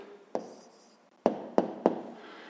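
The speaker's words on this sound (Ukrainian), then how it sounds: "Записуємо відповідь." Pen writing an answer on paper during a math problem: four short, distinct scratchy strokes at irregular intervals, close and clear, with no talking.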